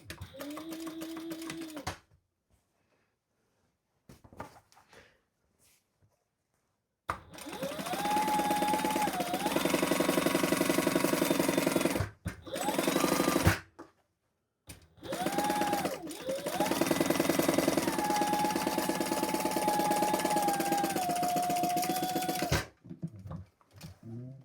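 A sewing machine stitches a half-inch seam on an outdoor footstool cushion cover, running in several close, steady whirring bursts of a few seconds each, separated by short silent pauses.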